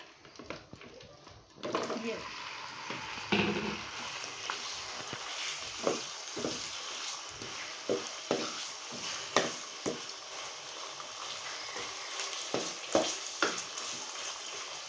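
Chicken pieces frying in hot ghee on full heat in a home kitchen, a steady close sizzle that swells after the meat goes in, broken by repeated stirring scrapes and clatters.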